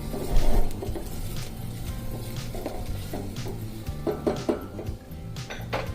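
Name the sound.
stirring shallots, garlic and onion frying in oil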